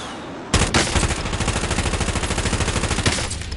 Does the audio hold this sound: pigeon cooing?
no